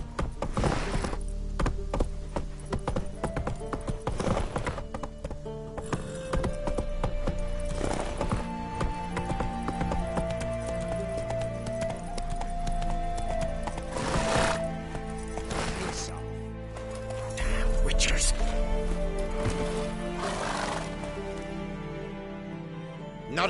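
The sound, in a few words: horse Roach trotting and neighing, from a video game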